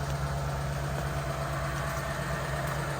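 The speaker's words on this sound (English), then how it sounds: "The idle's increased a little bit." A warmed-up Ford Crown Victoria engine idling, a steady, even low hum with a slight pulsing throb, constant and moderately quiet, with no one speaking.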